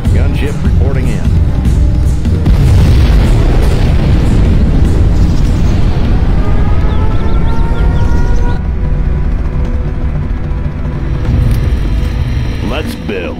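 A nuclear missile detonation in Command & Conquer Generals Zero Hour: a loud, sustained rumbling roar filling the whole stretch, with game voice announcements spoken over it.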